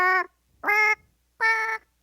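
Three sustained, tonal cartoon bird notes play from the bird piano soundboard of the Angry Birds mobile game, evenly spaced and clear, each a bright honking sung pitch with no talk over them.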